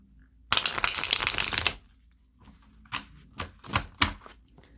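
An Illuminati oracle card deck is riffled close by in one loud burst of rapid flutter, followed by a few separate quick shuffles and taps of the cards.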